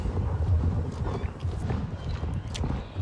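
Horse hooves clip-clop at a walking pace in the video game Star Stable, close and fairly loud, with a brief neigh partway through and no talk over it.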